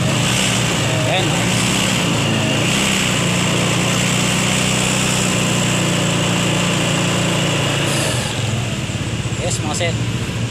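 A Mio Sporty motorcycle engine, fitted with fullwave wiring, runs steadily after starting, a continuous close idle drone that fills the whole stretch, with someone talking over it.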